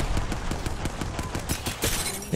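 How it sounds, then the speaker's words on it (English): Automatic weapon fire in the video game Apex Legends, a fast regular rattle of shots through most of the stretch, loud and close with no talking. "Let me shoot you."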